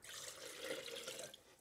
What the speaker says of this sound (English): I'm going to pour some of that into here